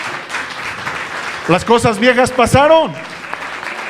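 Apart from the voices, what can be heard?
applause in church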